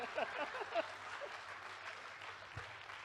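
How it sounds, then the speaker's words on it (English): An audience at a fireside chat event applauds faintly and from a distance, with a brief voice audible at the start of the soft, scattered clapping. "A round of applause for my customer."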